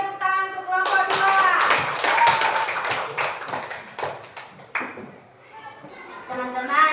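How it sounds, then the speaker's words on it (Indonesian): Students in a Catholic religious education classroom clap for a group, a burst of close, uneven hand claps lasting several seconds, framed by a voice speaking before and after. "Beri tepuk tangan untuk kelompok 2"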